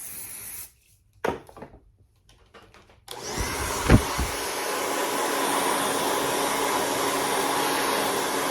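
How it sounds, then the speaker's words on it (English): After a few quiet seconds with light handling noises, a hair dryer switches on and blows with a steady, loud whooshing roar to the end. "Have your blow dryer."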